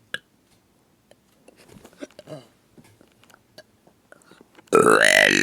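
A loud, drawn-out burp erupts close to the mic at the very end, after several seconds of quiet rustling and small clicks.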